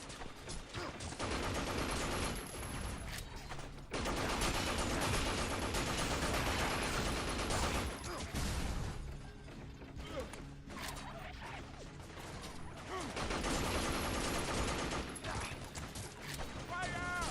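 Gunfire raining on the player in the Binary Domain shooter, dense loud bursts and crashing impacts packed into a continuous roar of battle, with voices talking over the noise.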